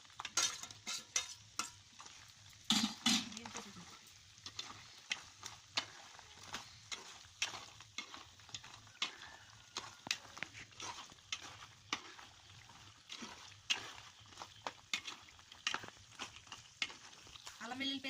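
Fried chicken dropped into frying ginger garlic paste for a chicken pickle, sizzling quietly under repeated stirring clinks and scrapes of a spoon against the pan.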